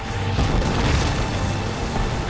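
A grenade in Modern Warfare 2 bursts into a loud, rumbling boom that fills the whole moment and decays with a dense, noisy tail, close and alone.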